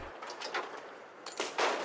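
Two loud tank cannon blasts in Hills of Steel, one about midway and a heavier one near the end, each with a sharp onset and a noisy rumbling tail.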